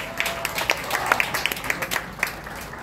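A church congregation at a Tuesday worship service claps for a praise song: a fairly dense spread of handclaps at moderate distance, steady throughout with a few sharper accents standing out.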